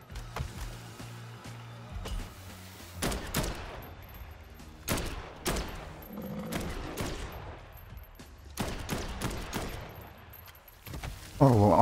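Gunfire from the video game Dead Island 2 comes as sharp scattered shots and short bursts spread across the stretch, mixed with other game noises and a player's occasional talk.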